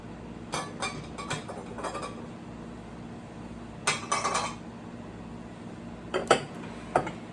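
Two pink glass serving dishes knocking and clinking against each other and a hard surface, in several brief separate bursts at close range with quiet pauses between, and no one talking.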